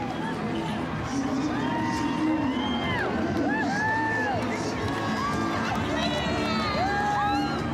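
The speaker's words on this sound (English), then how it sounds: "Wonderful crowd, excellent support for the Blues and the Drua." Large crowd cheering at a Blues versus Fijian Drua rugby match in Whangarei, a continuous loud roar with whoops and shouted whistles rising throughout.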